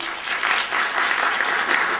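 Applause greeting a guest at an award function in New Delhi, a continuous wash of clapping from the gathered audience, even and fairly close, with no speech over it.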